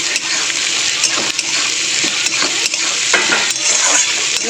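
Onion, garlic and green chillies sizzle steadily in oil in a pan, a dense close hiss broken by stirring clicks and scrapes against the metal.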